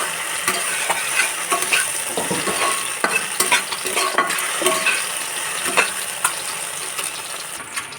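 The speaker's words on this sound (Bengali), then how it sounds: "এখন আঁচটা বাড়িয়ে দিব আমি, বাড়িয়ে দিয়ে এটাকে ভাজা ভাজা করবো" Okra frying over high heat in a pan, sizzling steadily while a utensil stirs it with frequent scraping clicks and taps, close and fairly loud with no talking.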